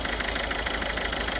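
A Ford Figo with about three lakh kilometres driven idles with an injector misfire, a close, steady engine drone with a faint uneven pulsing beat.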